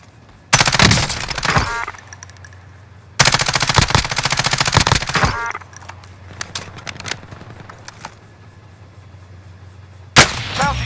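Gunfire in Call of Duty: Modern Warfare, with loud bursts of rapid automatic fire close by, quieter scattered shots between them and a final sharp burst, with no talk.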